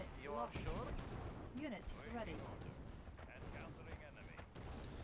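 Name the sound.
tanks firing in video game Yuri's Revenge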